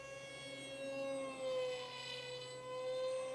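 RC MiG-29 model jet cruising at half throttle, a faint, steady turbine whine with a high tonal pitch that swells and eases slightly as it passes at a distance.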